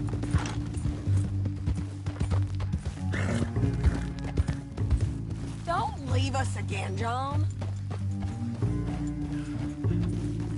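Horse hooves clip-clop steadily beneath people talking in the video game Red Dead Redemption 2, with a low tonal drone underneath and a few whinny-like calls in the middle.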